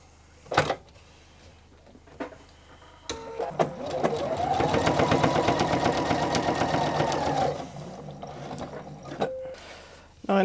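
A sewing machine runs a straight stitch along a jacket edge with binding laid edge to edge, a steady rapid mechanical whir lasting about four seconds and close by, framed by brief handling clicks before and after.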